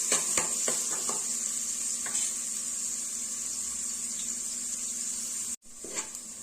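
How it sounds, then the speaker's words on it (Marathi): Finely chopped onion sautéing in oil in a pan, giving a steady close sizzle with occasional stirring scrapes, briefly cut off near the end before resuming. "व्यवस्थित असं ट्रान्सपरंट होईपर्यंत आपल्याला हे परतून घ्यायचं"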